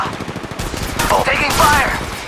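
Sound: gunfire in the video game Apex Legends Mobile

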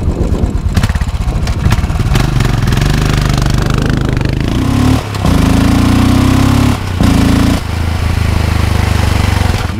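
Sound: Royal Enfield 650 motorcycle engine running

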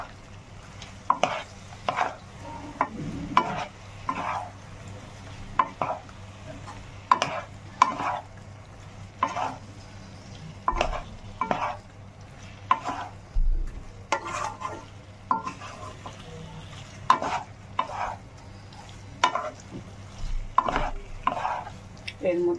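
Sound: soybean, potato and cauliflower stir-fried with spices

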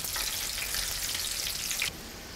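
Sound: onion rings frying in oil

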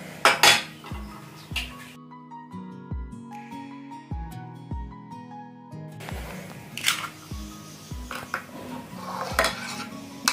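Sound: mixing egg and mustard oil hair mask in a bowl

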